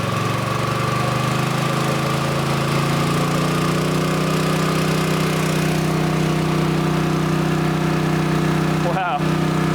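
A wildfire mobile attack unit's pump engine runs loud and steady close by, rising from near idle to a stronger, fuller drone that holds for the whole stretch, with a brief clatter near the end.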